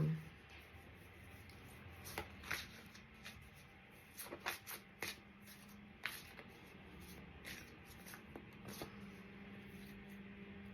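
Tarot cards handled and shuffled at close range, with soft crisp flicks and riffles in scattered bursts over a quiet room background, fairly faint throughout.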